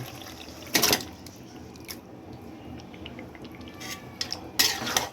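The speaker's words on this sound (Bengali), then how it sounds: "এখন আমি ম্যারিনেট করে রাখা মাংসটা দিয়ে দিব" Marinated mutton for a rezala is added to a pan with onion and spices and stirred, heard as close clinks of a utensil against the pan, a couple of sharp bursts at the start and end with wet squishing between, and no talking.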